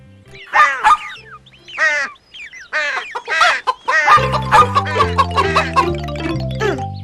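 A hen clucks in a Malayalam cartoon, giving a run of short, lively clucks near the listener. A light tune joins partway through and continues under the later calls.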